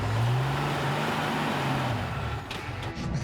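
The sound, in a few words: Toyota Hilux tyres spinning while stuck off-road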